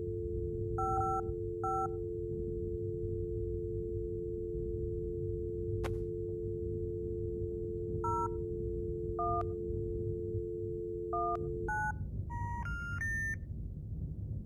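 A coin payphone in a video game holds a steady dial tone while a sequence of paired touch-tone keypresses beeps out a number, the tones stopping before a final quick run of higher electronic bleeps.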